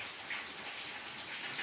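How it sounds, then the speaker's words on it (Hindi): Steady rain falls in a continuous, even hiss in the winter season, with no breaks or distinct drops standing out and no voices. "पानी बरसती है ना, झिमझिम, एक ही फ्लो में पानी बरस रही है"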